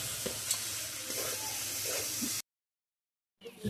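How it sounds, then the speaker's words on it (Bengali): Pointed gourd (potol) with turmeric sizzles and fries steadily in a pan, a close continuous crackle that cuts out abruptly before resuming briefly. "পটলটা প্রায় হয়ে এসছে, আর একটু ভাজা ভাজা হলে নামিয়ে নেব।"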